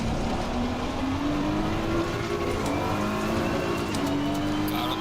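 Lamborghini and Ferrari 296 race cars in Assetto Corsa Competizione, a steady engine drone with a rising pitch as the cars accelerate, continuous and fairly close throughout.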